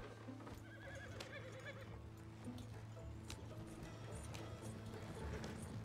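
A horse in the video game Red Dead Redemption 2 whinnies several times while hooves clip-clop steadily, set against a continuous low in-game ambience with no talking.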